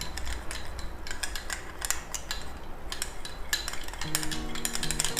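A thick face pack paste is stirred in a bowl, with a spoon giving close, repeated scraping clinks and taps, and a low steady hum entering near the end.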